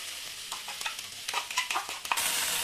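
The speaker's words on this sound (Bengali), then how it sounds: "মশলাটা অল্প একটু জল দিয়ে ভালো করে কষে নিতে হবে।" A thick garlic and spice paste fries in a pan, being cooked for a chicken dish, with a steady hiss broken by several short scraping stirs and a louder sizzle burst near the end, close and alone.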